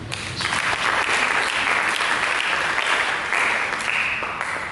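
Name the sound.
congregation applause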